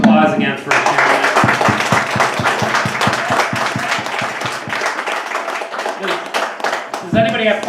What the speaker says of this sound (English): give him a round of applause again for sharing that